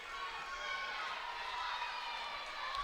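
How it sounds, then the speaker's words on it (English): High school basketball crowd at a playoff game, Warner Monarchs fans cheering in a steady, distant wash of noise that holds at an even level throughout. "Monarch crowd is alive and well right now, and sensing an upset"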